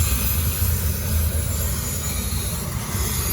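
A long Norfolk Southern or CSX freight train rolls past, giving a loud, steady low rumble with a broad wash of rail noise and no talking.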